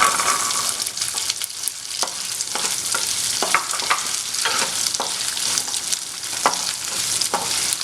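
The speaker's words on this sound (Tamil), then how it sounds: "மிளகாய் வறுபட்டதும் சின்ன வெங்காயம் சேர்த்துக்கலாம்" Red chillies and small shallots fry in oil in a pan over a medium flame for a spicy hotel-style chutney: a steady, dense sizzle broken by repeated scraping stirs, with no voices.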